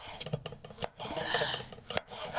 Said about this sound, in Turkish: Onları şöyle ince ince doğramakla işe başlıyoruz.